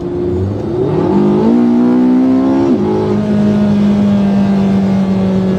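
Porsche 918 Spyder engine on the move, a loud steady drone that climbs in pitch through gear changes, then settles into an even cruising hum.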